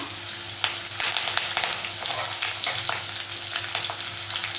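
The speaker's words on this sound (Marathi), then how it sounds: "आपल्याला कांदा तेलामध्ये छान परतून घ्यायचा आहे" Finely chopped onion and curry leaves frying in hot oil with mustard and cumin seeds in a pan over high heat, a steady close sizzle with crackles and occasional stirring scrapes, no talk.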